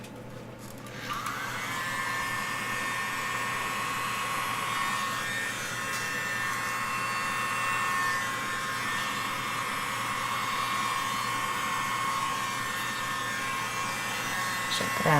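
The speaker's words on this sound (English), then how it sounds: "let's use our little blower." A small electric blower whirs steadily and close at one even pitch over acrylic pour paint, starting with a brief click and then running without a break.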